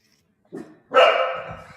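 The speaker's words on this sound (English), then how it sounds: "Well, I hear your dog in the background." A dog barks somewhere in the background during a remote video call, giving a short yip followed by one longer, louder drawn-out bark, with no talking over it.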